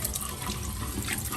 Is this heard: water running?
yes